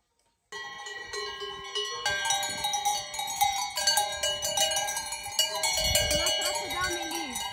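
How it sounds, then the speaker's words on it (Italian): Cowbells on cows grazing a mountain pasture clang continuously and close by, several bells ringing over one another in an uneven, overlapping jangle after a brief silence, with a low rumble near the end. "le mucche, hai visto?"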